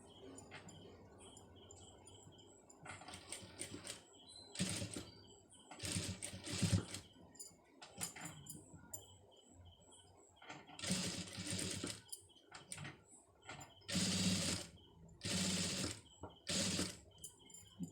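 Short bursts of a sewing machine stitching a scallop border come in stops and starts, fairly faint, with small handling noises between runs.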